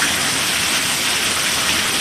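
Heavy rain falls during a lightning storm, making a steady, close, continuous hiss with no voices.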